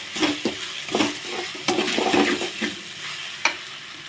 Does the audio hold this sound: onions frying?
yes